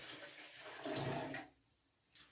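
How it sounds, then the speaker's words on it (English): Grapefruit juice pours into a blender, a liquid splashing and gushing that swells briefly, then cuts off into near quiet with a short sound at the end. "I'm going to pour the grapefruit juice into the blender"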